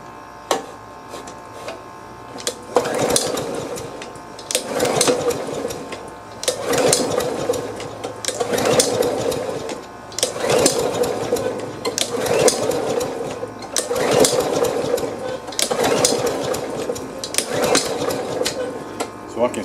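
A Snapper Ninja lawn mower's recoil starter is yanked again and again, roughly eight rattling pulls spaced about two seconds apart, each a short mechanical clatter without the engine catching.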